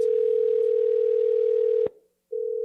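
A telephone dial tone sounds while a cold call is being redialed. A steady tone holds for almost two seconds, breaks off briefly, then resumes, with no speech.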